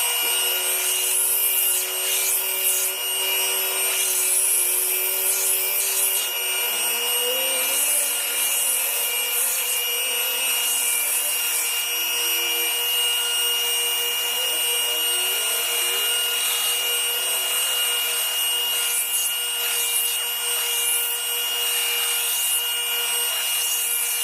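Needle files rasp steadily against the bolster of a Japanese bunka knife locked in a vise, giving a continuous close scraping rub with repeated strokes and no talking.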